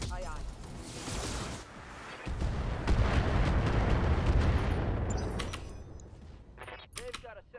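Heavy weapons fire from BattleTech mechs in combat, a dense roar of blasts and rumbling impacts swelling through the middle, then tapering off into scattered mechanical clanks and bursts.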